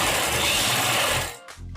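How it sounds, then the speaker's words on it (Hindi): Sewing machine stitching a kaftan dress in one continuous close, steady whirring run of just over a second before stopping. "तो यहाँ पर हम सिलाई लगाएंगे।"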